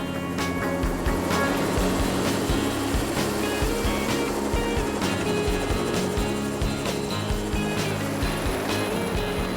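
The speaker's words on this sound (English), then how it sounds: "They're going to take a one-way chopper ride to the top of a mountain" A helicopter carrying passengers on a one-way heli-bike trip up a mountain in the Gibbston Valley gives off a loud, steady roar of rotor and engine noise that holds unbroken throughout.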